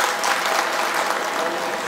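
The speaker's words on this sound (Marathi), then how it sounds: "एकदा तुमच्यासाठी टाळ्या वाजवा" Dense, steady applause from a large crowd, many of them women, at an election campaign rally in Maharashtra, filling the short stretch at full volume with no let-up.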